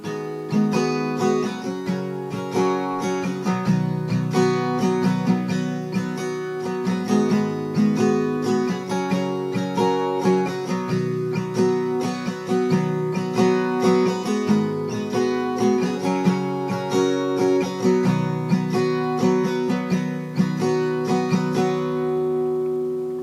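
Strummed acoustic guitar chords, capoed, cycle through a progression in a steady, even rhythm for over twenty seconds, with no voices, ending as the last chord rings out.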